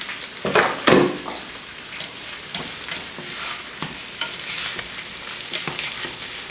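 Sausage, mushrooms and red pepper sizzle in a frying pan while a utensil stirs and scrapes them, giving repeated loud scraping strokes over a constant crackle.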